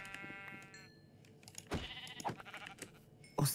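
Sheep in Minecraft bleat in the blocky game world, with several short bleats at moderate volume over a background of game sounds and footsteps.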